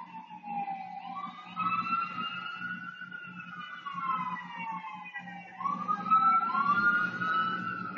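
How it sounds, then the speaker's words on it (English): A wailing ambulance siren sweeps up and down repeatedly, loud and fairly close, as it passes with a low traffic rumble beneath. "I'll wait till the ambulance pass."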